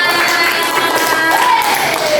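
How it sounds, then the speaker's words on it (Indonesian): Students in a classroom clapping together, a short dense burst of applause that runs steadily for about two seconds, with a little talk mixed in. "Tepuk tangan untuk Mbak Dita."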